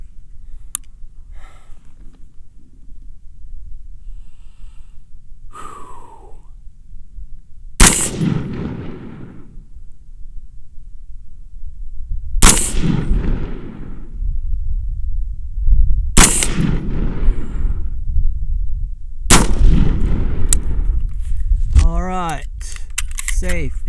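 Rifle shots from an M&P-15 Sport fired at target practice: four loud, sharp reports spaced a few seconds apart, each ringing out with a short echo, with low background noise and brief handling sounds between them.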